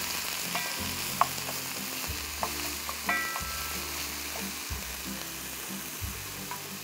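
Food frying slowly in a little oil in a non-stick pan for egg noodle soup, a steady low sizzle with occasional light clicks and stirring touches, close and even.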